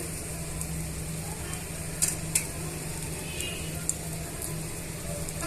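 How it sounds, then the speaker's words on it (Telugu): Bread pieces frying in oil in a pan for fresh bread toast, a steady soft sizzle with a few sharp crackles and occasional light clinks of a utensil turning them. "ఇలా టర్న్ చేసుకొని ఫ్రై చేసుకోవాలండి"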